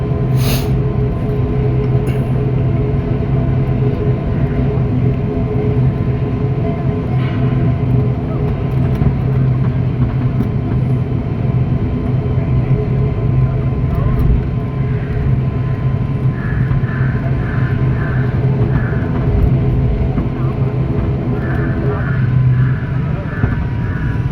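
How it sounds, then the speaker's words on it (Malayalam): Cabin interior of an IndiGo ATR-72 turboprop on the runway, a loud steady engine drone with strong low hum and a tonal whine that builds as it accelerates for takeoff, continuous throughout. "വിമാനത്തിൻ്റെ സ്പീഡ് കൂടി നമുക്ക് പറക്കാൻ പോവുകയാണ്"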